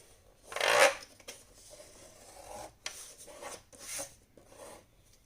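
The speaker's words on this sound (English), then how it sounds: "we're gonna fold them in half and burnish it." Paper sheets are folded in half and burnished for an accordion mini album, giving close, dry rubbing and scraping strokes, one loud swipe followed by several softer passes, with no talk.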